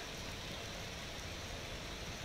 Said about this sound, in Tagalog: Ayan po, lakas po ng ulan.